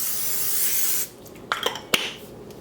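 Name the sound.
cooking spray on baking dish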